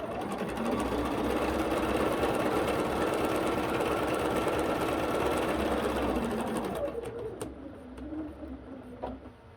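A sewing machine stitches quilt pieces together in a steady, rapid mechanical patter, running continuously at close range before stopping, followed by a few quiet handling sounds.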